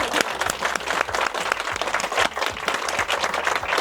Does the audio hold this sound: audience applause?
yes